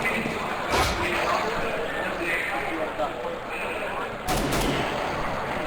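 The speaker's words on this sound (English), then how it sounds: "Device's auto sniper downs Edward" Auto sniper rifle fire in the video game CS:GO during a tournament match, sharp loud shots rising over a steady game background while a commentator talks.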